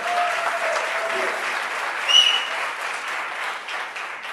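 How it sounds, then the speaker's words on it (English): Audience applause at an Empowering Women to Succeed event, a continuous wash of clapping from a seated crowd that stays steady throughout, with a brief louder swell partway. "Can we just give them the biggest round of applause?"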